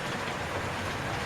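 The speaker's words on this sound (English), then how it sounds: "I've got yesterday's trains doing the rounds." Model railway trains run around a track in a loft layout, giving a steady, continuous rolling rumble and faint clickety-clack of wheels over rails, fairly near and unbroken, with no talk.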